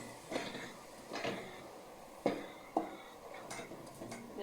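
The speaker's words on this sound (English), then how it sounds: "We're gonna stir our cabbage together with other ingredients we had previously added in." A spoon stirs cabbage with other ingredients in a pot in a Kenyan kitchen, making faint scraping and several distinct metallic clinks against the pot at an irregular pace.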